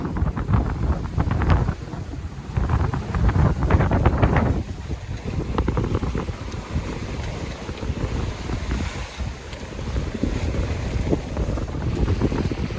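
Strong wind of about 17 to 18 knots gusts across a sailboat at sea, loud buffeting microphone rumble with rushing water and waves beneath, surging and easing without pause and no voices.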